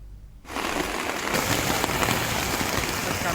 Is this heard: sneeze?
no